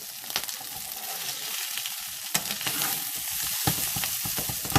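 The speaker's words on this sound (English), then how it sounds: "see the sausage brown in here" Plant-based vegan sausage browns in a hot pan, with a bright, steady sizzle and crackle close by, broken by a few sharper pops and spatters and no voices.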